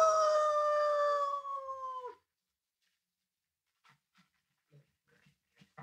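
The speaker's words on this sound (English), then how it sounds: "the sheriff's dog" A dog in an old-time radio crime drama lets out a long, loud tonal howl that fades out, then a quiet pause, then faint scattered scratchy, snuffling bursts like panting or digging.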